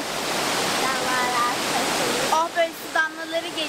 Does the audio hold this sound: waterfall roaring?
yes